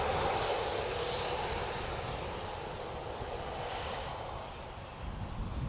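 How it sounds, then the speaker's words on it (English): An Aer Lingus Airbus A320 jet from London Heathrow roars steadily at an airport, a broad continuous engine rumble that swells and then eases slightly near the end, with no talk. "A320 next from London Heathrow"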